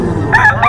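A Kanawayon stag, a young gamecock, gives two short, loud, nasal squawks in quick succession close by, over a low background murmur.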